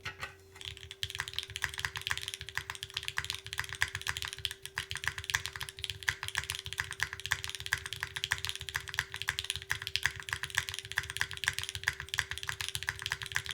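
Steady rapid clacking of keys on a mechanical keyboard, close up, continuous and fast with a faint constant hum underneath.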